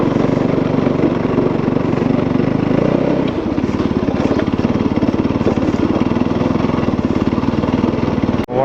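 Motorcycle climbing a gravel road, engine droning loud and steady up close, with the rhythmic chunking of tires over gravel and rocks and a sharp knock near the end.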